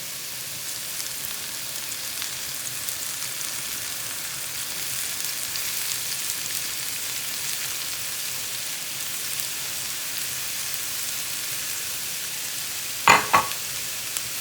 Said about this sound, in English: I'm gonna go ahead and start sauteing my vegetables, my onions and my mushrooms